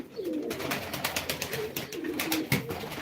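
Soft, low white pigeon coos repeat several times over a fluttery, rustling background, close by and moderately loud, at a live pigeon auction.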